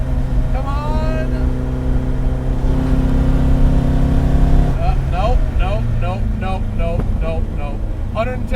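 A modified 1966 Alfa Romeo Giulia GT with about 110 horsepower pulls hard at full throttle, its engine droning steadily then climbing in pitch through the revs, close and loud, with people talking over the noise.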